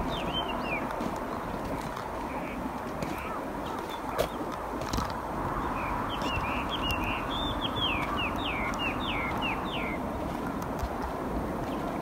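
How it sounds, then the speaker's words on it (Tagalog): Birds chirp and tweet outdoors in fine weather, with clusters of short, bright calls coming in bursts over a steady background of ambient noise, moderately close. "Huni ng ibon."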